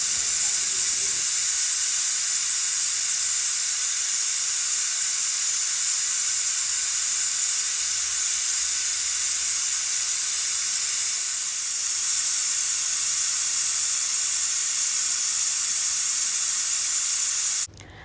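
A pressure cooker cooking khichuri lets out a loud, steady hiss of steam that runs unbroken for about seventeen seconds before cutting off abruptly.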